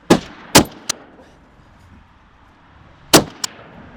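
Two sharp, loud L85A1 SA80 rifle shots fired with match ammunition crack close by at the start, followed by a third fainter report, then a pause and another loud shot near the end with a smaller echoing crack after it.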